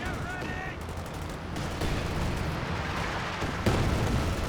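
Company of Heroes 2 combat noise, a machine-gun bunker and rocket grenades firing, forms a dense, moderately quiet rumble of shots with a couple of sharper bursts rising near the middle and end.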